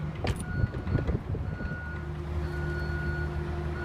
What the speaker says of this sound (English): One beep indicates locking